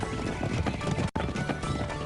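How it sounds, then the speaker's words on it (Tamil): Seven horses set off running, their hooves clip-clopping in a dense, steady patter with a brief break partway through. "அங்க பாத்தியா 7 குதிரைகளும் கிளம்பி போய்கிட்டு இருக்கு."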